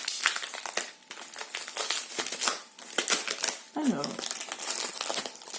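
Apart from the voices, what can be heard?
unboxing, opening a plastic-wrapped package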